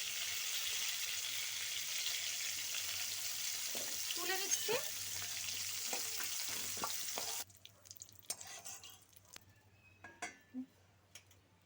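Cauliflower florets fry in hot oil with a steady, fairly loud sizzle for most of the stretch, a few utensil clinks over it, then the hiss drops away, leaving sparse knocks and scrapes.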